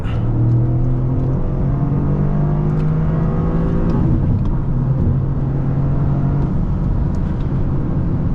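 A 2024 Toyota GR Corolla Premium's turbocharged engine pulls hard in third gear, a loud, steady in-cabin roar that climbs in pitch, with no talk.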